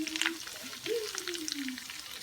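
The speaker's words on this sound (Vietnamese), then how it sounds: "Bây giờ vẫn còn đang chiên nữa." Breaded cheese-filled sausage rolls deep-fry in hot oil, giving a steady crackling sizzle with scattered pops, alongside a faint tonal sound.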